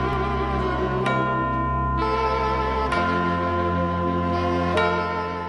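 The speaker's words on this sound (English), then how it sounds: "This is Auld Lang Syne" Auld Lang Syne plays as New Year's midnight music, a sustained, full instrumental arrangement with rich held chords and a few soft chime-like accents, steady and loud throughout.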